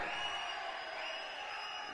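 Fans at a Tamil film event crowd noise with Dhanush and Parthiban present clap and whistle in a steady, dense wash of applause and high whistles, continuous and fairly distant.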